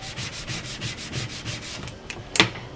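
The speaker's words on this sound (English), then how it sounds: "And go in with the squeegee, give it some good pressure." Squeegee pressed hard and rubbed back and forth over vinyl transfer tape on a bag, making a steady rhythmic scraping with one sharper rasp near the end, close and without talk.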